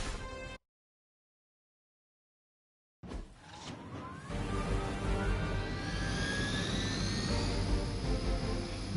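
A loud, steady rumble of Hydra helicopter rotor and engine noise in Marvel's Midnight Suns rises after a short burst and a stretch of silence, with whining tones sliding upward throughout.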